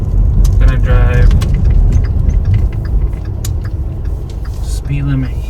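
A Volkswagen car with a DSG gearbox driving, a steady low engine and road rumble inside the cabin with a brief rise in revs, while someone talks over it.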